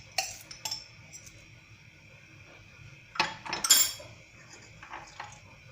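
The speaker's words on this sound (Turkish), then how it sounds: "kaynama noktasına gelinceye kadar karıştırıyorum" A spoon clinks and scrapes against a metal pot of chocolate sauce with chocolate chips and milk chocolate, stirred toward the boil in a few short bursts, with quiet gaps between the stirring sounds.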